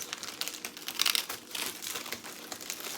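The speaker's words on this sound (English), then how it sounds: "They are taking the graham crackers and they are putting them in plastic bags." Graham crackers are put into plastic bags, giving a close, soft crinkling and rustling of plastic with a brief louder burst partway through, no voices.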